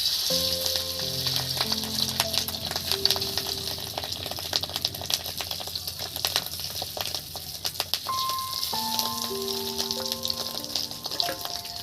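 Marinated fish roe frying in hot oil, a steady close crackling sizzle with a busy spatter of pops throughout, alongside soft background music tones.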